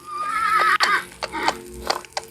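In a video game, a fur trader's horse whinnies loudly, followed by snorts and a few hoof clops, sounding close and clear with no talking.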